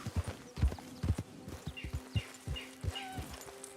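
Horse hooves clip-clop in a steady trotting rhythm in the video game Red Dead Redemption 2, close and crisp, with faint bird calls whistling in the background.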